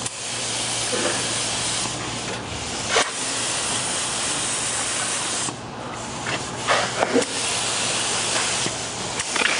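A continuous fine hiss of an airbrush spraying, steady for long stretches with a few brief breaks and short sharper bursts.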